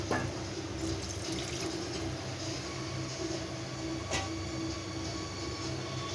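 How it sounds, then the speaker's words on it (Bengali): Water pours into a cooking pot for dalia, a steady broadband rush that runs the full six seconds, with a couple of faint knocks partway through and no talking. "এবার আমি জলটা দিয়ে দেবো।"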